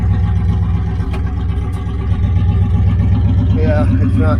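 A car engine idles loud and close with a steady low drone that lifts slightly as the car is put into gear and starts to move, with a voice speaking briefly near the end.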